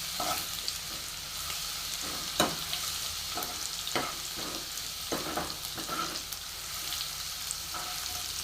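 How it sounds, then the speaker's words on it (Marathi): Garlic roasting in oil with cumin until golden, a continuous soft sizzle punctuated by light scraping strokes of a stirring spoon, fairly quiet and close. "आता लसूण टाकून घेते. व्यवस्थित गोल्डन कलर येईपर्यंत याला भाजून घ्यायचं."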